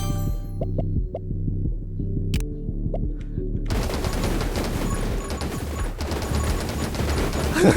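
Rapid gunfire from the survival shooter game 10 Minutes Till Dawn, a dense, unbroken stream of shots that starts after a quieter stretch of sparse tones and rumble, loud and continuous to the end.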